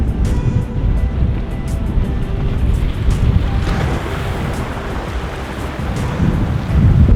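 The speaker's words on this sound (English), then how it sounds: "Now the wind comes down." Strong wind from Hurricane Douglas blows continuously for several seconds in a loud, steady, low roar that buffets the microphone, with surges near the start and end and a faint wash like surf beneath it.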